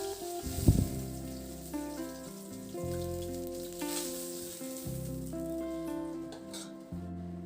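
Fish pieces fry in hot oil with a soft, continuous sizzle and crackle, heard faintly beneath louder background music.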